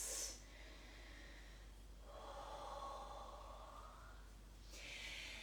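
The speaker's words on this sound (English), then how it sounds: "Take a couple of breaths." Deep breaths during a yoga breathwork session in an energizing breathwork and vinyasa flow class: a sharp nasal inhale, then a long audible exhale, and another inhale at the end, all quiet and close with no talking.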